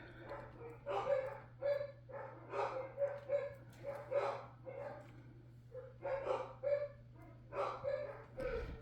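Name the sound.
dogs barking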